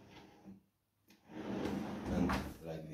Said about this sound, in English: we have the drawers with the Gola system outside of the wardrobe this time, so you can see how it's working with the soft close